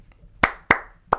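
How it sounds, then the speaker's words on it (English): Three sharp, separate hand claps, close and crisp, each with a short room decay, spaced unevenly with quiet between them. "Can you clap for me?"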